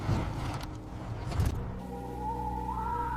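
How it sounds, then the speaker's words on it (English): A pickup truck engine sputters in two rough bursts, then dies away into a fading, steady mechanical whine, close and fairly loud. "Suddenly, the truck engine sputtered and died."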